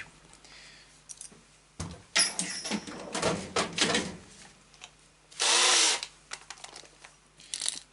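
An electric drill bores holes while a Traxxas TRX4 kit is assembled, with short whirring bursts, a louder sustained run near the middle and scattered clicks and handling noises in between.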